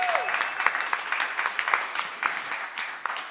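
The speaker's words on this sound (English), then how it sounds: "how about one more round of applause for Lucy Isabel" Sustained audience applause at a live bluegrass radio show broadcast, a dense wash of many hands clapping steadily for several seconds with no break.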